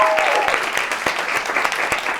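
Studio audience applauds on a talk show, a dense, steady wash of clapping with a few sharper individual claps standing out, fairly close and continuous for a couple of seconds.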